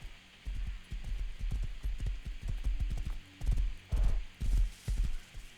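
Hoofed footsteps of a deer running in the survival game Rust, a steady series of soft, thudding clip-clop beats at close range over a low background hum.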